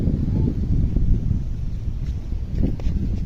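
Strong wind roaring and buffeting the microphone, a continuous low rumble with gusty surges and no voices.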